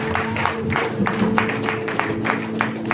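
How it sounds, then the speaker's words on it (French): A church congregation claps and cheers for the Lord, steady rhythmic handclaps landing about three times a second over a sustained musical drone. "Nous acclamons très fort le Seigneur"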